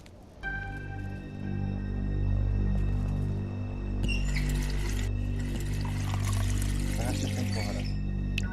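Water pours and splashes in a kitchen in The Wolf Among Us video game. A gurgling, splashy stream of a few seconds rises over a constant low electrical hum, fairly close and at a moderate level.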